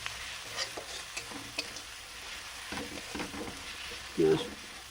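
Garlic paste frying in oil with onions already browned, giving a soft steady sizzle broken by intermittent scraping stirs and one louder clatter near the end; no voices.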